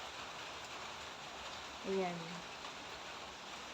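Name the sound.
rain falling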